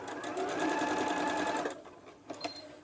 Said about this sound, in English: I will just sew that line one more time